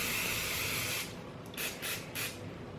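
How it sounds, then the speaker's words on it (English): Cooking spray hissing steadily into the inside of a mug for about a second, followed by three short close bursts of spray. "some cooking spray so that it doesn't stick, and I am going to spray the inside of this mug liberally"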